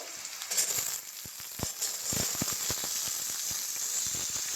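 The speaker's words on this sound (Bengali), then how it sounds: "সেই আলুগুলো এবার আমি ভাজতে দিয়ে দেবো সব আলুগুলো দিয়ে দেব" Diced potatoes frying in hot oil, a hissing sizzle with a dense scatter of small crackling pops, near and fairly quiet.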